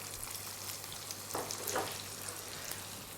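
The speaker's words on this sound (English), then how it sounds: "When the black cumin slightly saute, add one chopped onion," Chopped onion and black cumin sautéing in a pan for meatball koftas, a steady close sizzle with a brief louder burst of frying partway through, no talking.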